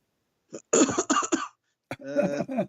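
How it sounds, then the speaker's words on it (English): Two bursts of close, raspy coughing, a short cluster of hacks, a pause, then another rough throaty round. "No, I've always got a cough."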